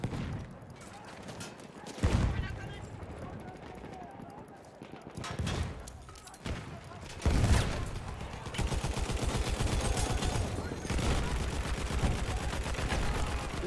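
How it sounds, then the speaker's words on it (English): Rapid bursts of gunfire from the World War I shooter game Battlefield 1, with a player firing through a wall; loud volleys come and go over a steady background, ending in sustained, fast repeated shots. "shooting through the wall"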